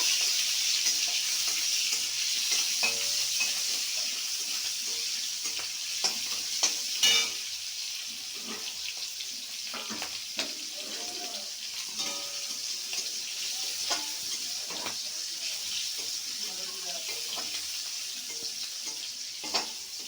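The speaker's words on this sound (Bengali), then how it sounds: "এবার চিংড়ি মাছগুলো দিয়ে দিলাম। চিংড়ি মাছগুলো একটু ভাজা ভাজা করব।" Prawns frying in hot oil with cumin seeds and a bottle gourd dish underway, giving a steady close sizzle with scattered spatters and scraping stirs, and no talk.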